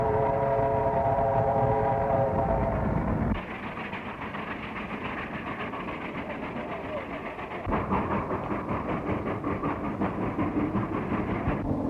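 A train rumbles past a crossing during a chase, heavy clattering and droning that drops off partway then surges back, with voices talking over a dramatic music score.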